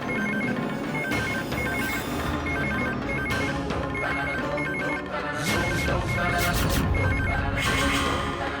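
A telephone rings loudly and repeatedly in a television drama scene, its ringing tones layered over dramatic background music with crashing accents, no talk during the ring.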